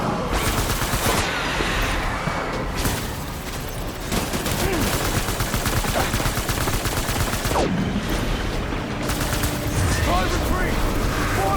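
Sustained gunfire and explosions from a battle in the video game Death Stranding, dense overlapping bursts and booms at steady high volume throughout, with voices shouting commands over the din.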